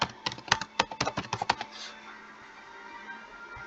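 A burst of keystrokes on a computer keyboard spells out a playlist name, about a dozen quick clicks over a second and a half, followed by quiet room tone with no talk.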